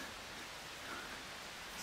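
Steady, soft rain falls through the night at an Amazon jungle lodge near Rurrenabaque, a constant hiss of drops with no breaks and no voices.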